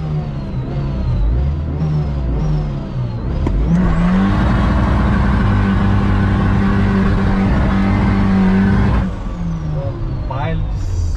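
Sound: Ford Ranger with sport tyres pulling away in four-wheel drive

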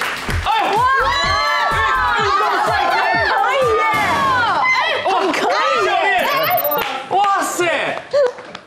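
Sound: studio audience applause and cheering

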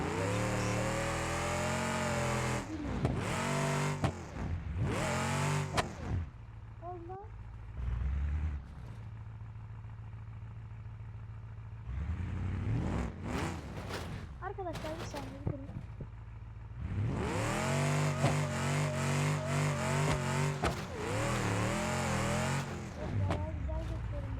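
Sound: Opel Astra four-wheel-drive car engine revving

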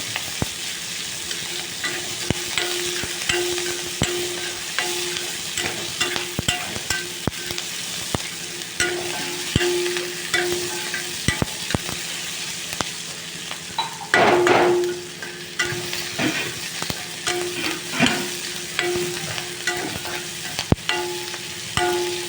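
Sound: sautéing radish in a pan

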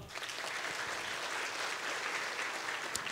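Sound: audience applause at an award ceremony

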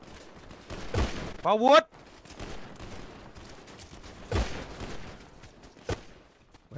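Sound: gunfire in the video game GTA

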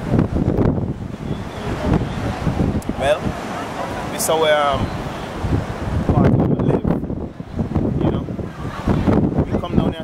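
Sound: wind and waves on a beach

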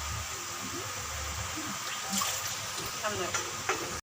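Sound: water poured into curry masala

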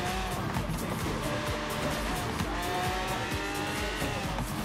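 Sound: Lamborghini Centenario driving, tires squealing, Forza Horizon 3 video game

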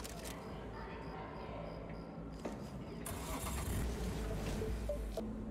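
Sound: car in video game Cyberpunk 2077

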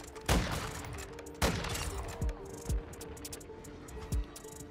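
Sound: marksman rifle gunfire in Modern Warfare 2 video game

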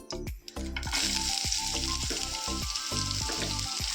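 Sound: green chilies, garlic and onion frying in hot oil

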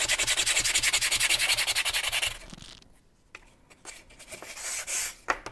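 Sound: fine sanding of wooden wing leading edge

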